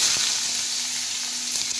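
Finely chopped onion hits hot oil with garlic cloves crushed and browned until reddish, plus cumin, giving a steady, dense sizzle and crackle, close and continuous with a couple of light stirring knocks.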